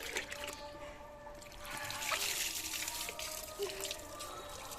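Water poured over a baby during a winter bath, a soft, steady trickle and splash that rises slightly midway, fairly quiet and heard alone without talk.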